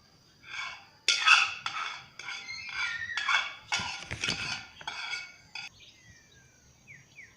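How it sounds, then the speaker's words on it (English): Metal scraping in a cooking pot comes through as a run of bright, rasping strokes, several bursts in a row at moderate loudness, with no talk over them. "scraping in the pot"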